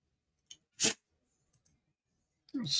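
A single short, sharp sneeze bursts out in a quiet room during a Scotch whisky tasting, set between faint clicks, and a voice begins speaking right after it.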